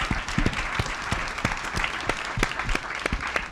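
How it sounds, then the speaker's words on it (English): An audience at a panel event on the information environment and democracy gives a round of applause, dense clapping with sharp individual claps standing out, moderately distant and without talk. "Can we just have one more round of applause for this incredible human being right here?"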